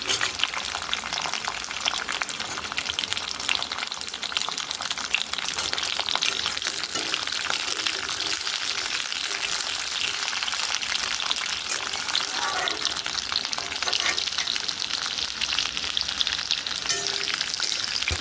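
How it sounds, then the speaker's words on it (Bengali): Ivy gourd (kundri) frying in hot oil after a tempering, a steady dense sizzle with occasional stirring, close and continuous, with faint speech in places. "এবারে আমি এই কুদরিগুলো ভেজে নেবো"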